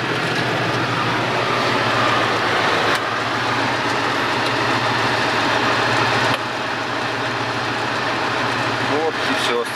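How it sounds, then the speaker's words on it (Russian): A Kirovets K-701 tractor engine runs steadily while the machine drives, a loud, continuous low rumble with a constant drone and no pauses for the full length. "вот так вот сейчас прокатимся немножко на тракторе"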